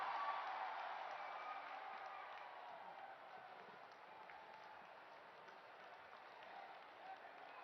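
Crowd applause welcoming Prime Minister Modi at a foundation-stone and project inauguration event in Barki, a faint, distant wash of clapping that fades slightly and then holds steady.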